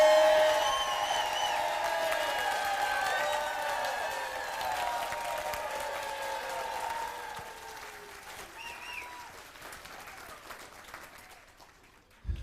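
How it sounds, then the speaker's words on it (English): A large crowd at a resort event claps and cheers in one sustained burst of applause that slowly thins and fades over about twelve seconds, with scattered whoops. "So on the count of 3, we're going to clap for all of the people in the other room."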